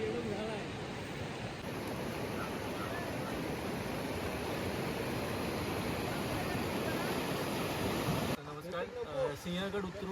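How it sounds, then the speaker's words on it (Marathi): Swollen river rushing at full force along a Sahyadri trek route, a dense steady roar of churning water that fills the scene for about eight seconds before cutting to quieter sounds with a few voices. "त्या नदीला पाणी पूर्ण फोर्सनी आहे"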